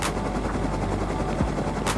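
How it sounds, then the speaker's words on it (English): A helicopter in the video game Rust: a loud, continuous rotor thrum with rapid chopping pulses fills the whole stretch, close and unbroken. "I can't hear you because of the heli."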